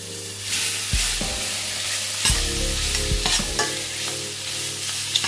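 King prawns frying in a pan with butter and bran oil, a steady close sizzle broken by several sharp stirring scrapes and clacks, with no talking.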